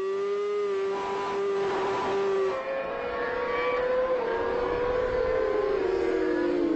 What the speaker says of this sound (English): Around the hairpin and accelerating away on board with James McBride.